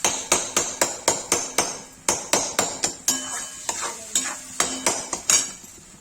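Tomatoes fry in a pan for a spinach and lotus stem curry while a spoon stirs and knocks against the pan, giving a steady run of sharp, close clicks over a soft sizzle, with no talk.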